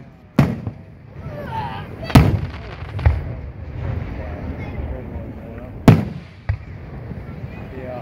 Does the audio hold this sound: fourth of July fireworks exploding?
yes